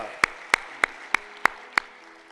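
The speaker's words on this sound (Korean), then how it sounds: "우리 하나님께 영광의 박수 드립니다" A church congregation at a Friday worship service claps six times in even, sharp bursts, loud and close, with the room falling quiet between claps.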